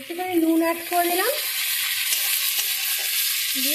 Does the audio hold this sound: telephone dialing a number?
no